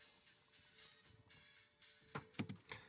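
High-pass filtered audio cut around 3,500 hertz leaves a thin, hissy, faint sound with soft rhythmic bursts and brighter clicks near the end, and no speech.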